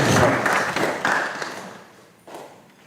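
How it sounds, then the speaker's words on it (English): Audience applause for a university Vice Chancellor at a student leaders conference hall, a burst of clapping that swells at the start, tapers, surges briefly again near the end and fades out. "A round of applause for the Vice Chancellor."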